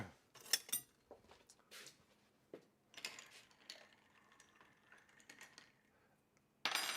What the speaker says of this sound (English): I'm only going to give it a short stir